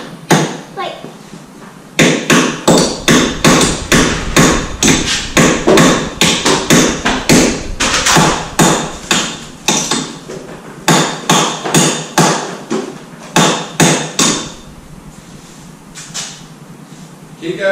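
Hammer blows ring out in quick, loud bursts during a test fit of wide-arch Mazda MX-5 wheels, rhythmic volleys of metallic strikes with short pauses and occasional voices between them.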